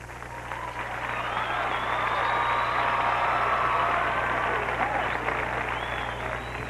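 Audience applause after the placings are announced at a 1987 drum corps retreat, a broad wash of clapping from a crowd that swells and holds for several seconds, with a steady low engine-like hum underneath.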